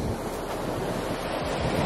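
Steady roar of waves on a beach, loud and close, mixed with heavy wind rumbling across the microphone on a chilly day.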